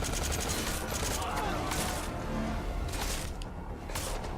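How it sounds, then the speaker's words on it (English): Rapid gunfire in Metal Gear Solid 5 Ground Zeroes on PS4, dense overlapping bursts of shots crackling continuously and loudly through the whole stretch, with a brief dip near the end. "Oh gosh, where am I getting shot from?"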